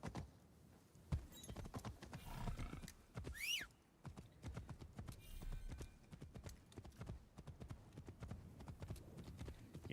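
Rapid clip-clop of hooves at a steady gallop rhythm from a horse in the video game Assassin's Creed Shadows, with a brief whinny partway through, all fairly close and continuous.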